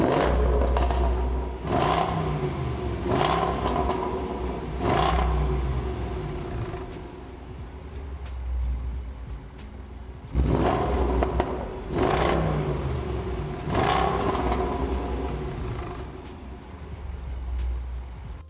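A Range Rover Sport SVR, the top-trim SUV on 22-inch wheels, revs its engine in repeated bursts, each loud rise roaring and then falling back to a deep idle rumble, with several blips clustered together and a pause between groups.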